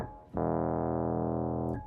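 A single sustained piano chord rings out clearly on its own, playing part of a song's riff, struck cleanly and held for over a second before being released.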